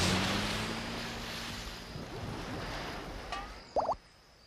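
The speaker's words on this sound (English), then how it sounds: "crocodiles prefer a belly flop and a great big splash" A crocodile belly flops into water: a rushing watery wash gives way to a sharp, loud splash near the end, with no voices.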